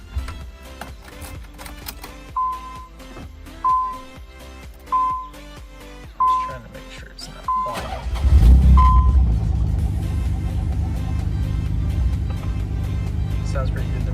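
A Nissan 300ZX Z32 sits after an oil change: several chimes sound amid clicks and handling, then the engine cranks, fires and settles into a steady idle, close by.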